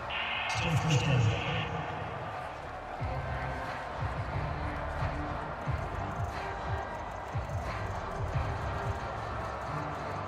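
Home stadium crowd noise in Madden NFL 22/23 during a Buccaneers–Cowboys game, a constant roar with thumping footfalls and bursts, under a commentator's voice.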